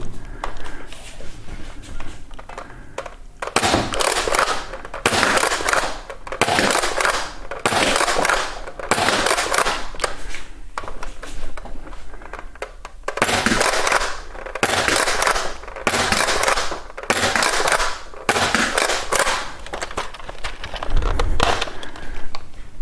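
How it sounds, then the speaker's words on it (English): Adventure Force Liberator foam blaster firing blue Nerf AccuStrike rival rounds at a target from about 15 and 20 feet, a series of sharp, loud shots in an uneven rhythm, each a brief close burst, with no talking. "We're going to be taking 5 shots at the target from around 15 feet and 5 more from around 20, firing blue Nerf branded AccuStrike rival rounds."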